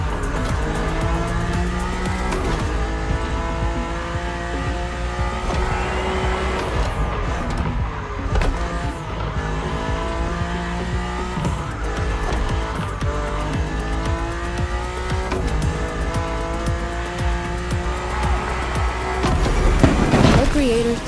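A car driving in the video game The Crew, its engine droning steadily and climbing in pitch again and again through repeated gear shifts, with tire noise and voices talking over it throughout.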